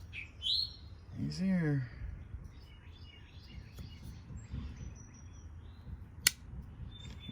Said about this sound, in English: we have a bird joining us